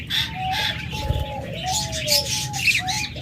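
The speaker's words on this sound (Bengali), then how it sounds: "এখানে বেশ কটা জাপানিজ পাখি আছে" Several caged Japanese pet birds coo and chirp close by, overlapping calls repeating steadily over a low background murmur.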